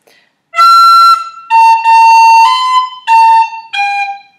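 Tin whistle playing the full phrase of the Irish tune Scatter The Mud: a run of bright, tongued notes in several short groups, close and loud, with brief gaps between them and no voices.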